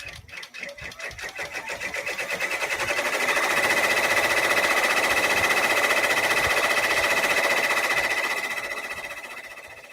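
An embroidery machine stitches a quilting design, giving a loud, steady rapid mechanical whirr with a fast needle clatter that swells up and holds, then slowly eases off, with no talking over it.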